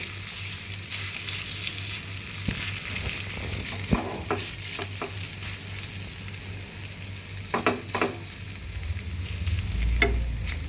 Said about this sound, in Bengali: এই 3-4 মিনিট মতো এটাকে ভেজে নেবো আমি